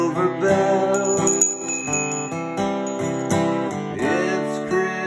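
Silver bells chime through a Christmas song cover, ringing in a bright, steady pattern of repeated struck tones with lingering overtones, close and clear throughout.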